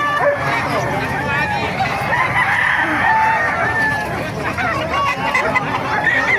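A busy outdoor rooster market in Bocaue, Bulacan, with roosters crowing and chickens clucking amid a crowd's chatter, a dog barking now and then in the mix.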